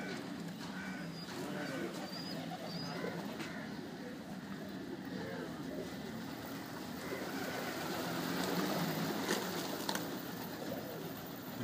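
Pigeons at a loft coo softly amid a steady, noisy outdoor background, their calls faint and intermittent throughout.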